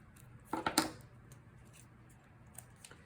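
Scissors snip tape along the cardboard seam of a pinhole camera, a quick cluster of close crisp cuts followed by quieter handling.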